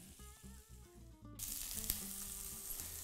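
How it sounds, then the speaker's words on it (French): Meat and shallot hit a hot sauté pan for pad thai, a loud sizzle bursting in after a quieter musical intro and continuing steadily with a brief clatter of stirring. "Je vais faire revenir tout d'abord ma viande avec l'échalote."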